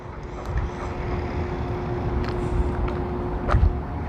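A Hosim X25 RC truck, stock out of the box, driving with a steady electric motor whine over rough rolling and crunching noise, plus a few sharper knocks and bumps.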